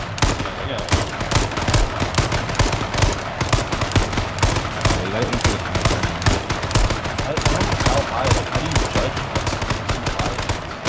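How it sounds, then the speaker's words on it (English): Rapid gunfire from H1Z1 battle royale gameplay, with bursts of shots aimed at a jeep; dense, steady, loud automatic-style firing continues throughout with no pause. "Shoot at the jeep."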